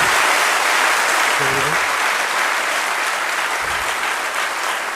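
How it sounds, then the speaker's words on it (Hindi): A crowd greets a UPSC first-rank topper with loud, dense applause that fills the room evenly, and a brief voice surfaces once beneath it. "तो आप तालियों के साथ उनका स्वागत करें।"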